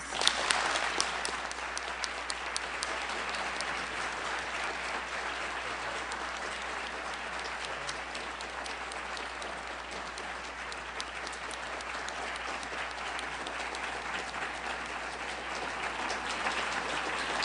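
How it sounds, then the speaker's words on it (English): A large audience gives sustained applause at the close of a 2012 attorney general debate forum, a steady even wash of many hands clapping that holds for the whole stretch, moderately distant and without talk. "let's give today's debaters a big round of applause."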